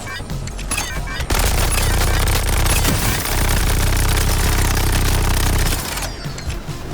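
Sustained automatic gunfire roars through a frantic fight in Suicide Squad: Kill the Justice League, loud dense bursts with a steady rattle and heavy low thump, tapering off near the end as game effects continue.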